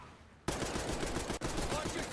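Sustained rapid gunfire in a shooter video game starts abruptly after a short quiet lead-in, a dense continuous burst with one brief break, loud and close.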